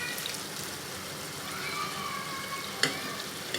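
Chicken tikka gravy with yogurt simmering in a handi over a low flame, a steady soft sizzle and bubbling throughout with a brief clink of utensil near the end.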